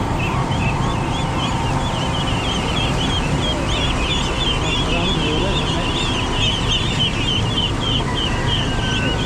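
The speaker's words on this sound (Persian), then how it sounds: "یه دونه خروس و دو تا مرغ." Roosters, hens and other fowl at a local poultry and chick market in Kuchesfahan, Gilan, northern Iran, keep up a dense, continuous chorus of clucking and crowing, with people talking throughout.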